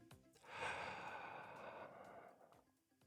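A single slow, deep breath drawn in close to the microphone, a long breathy rush that swells and then gradually fades, heard alone without talk.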